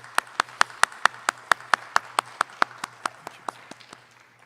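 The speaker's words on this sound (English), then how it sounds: "Please give them a round of applause" A small audience at a 2022 high school commencement gives a round of applause for three school board members: about twenty evenly spaced claps, fairly close and distinct, that fade toward the end.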